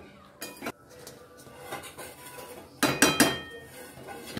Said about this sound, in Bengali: আলুগুলো এর সাথে একটু ভালো করে মিশিয়ে দিচ্ছি।